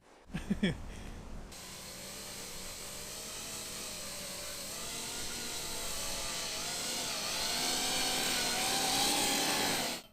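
A drone driven by Coanda-effect impellers lifts off at about half throttle, a steady loud whirring drone that swells and holds for several seconds after a brief burst of handling noise at the start.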